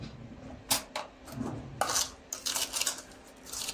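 The bowl of an Emsan Bella Gusto Maxi 1300W stand mixer is removed, with a few sharp metallic clinks and knocks and some scraping over a low background hum.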